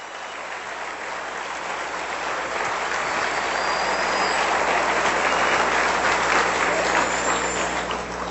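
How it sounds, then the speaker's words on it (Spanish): Congregation applauding for the Lord during a Spanish-language church sermon on blasphemy, a steady broad wash of clapping that swells gradually and holds for several seconds, with a low hum underneath. "Le voy a dar un aplauso al Señor todavía"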